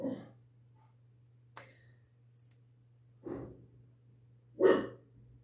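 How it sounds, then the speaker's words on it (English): A pet dog barks loudly indoors, two sharp separate barks near the end after a faint earlier yelp and a click, over a steady low electrical hum. "It is a loud barking from him."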